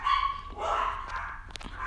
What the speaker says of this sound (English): Oh my god, my dogs are going crazy.